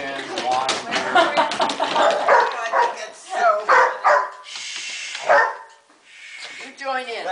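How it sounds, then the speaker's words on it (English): Dogs in a playful scuffle between a Chihuahua, a yellow Labrador mix and a Papillon give repeated close, sharp barks and higher yips with brief whimpers, mixed with people talking nearby. "It's like, bark all you want."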